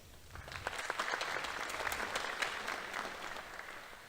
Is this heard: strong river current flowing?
no